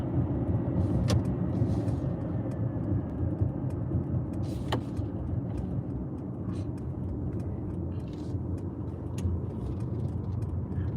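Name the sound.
Mercedes EQS 450+ electric car cruising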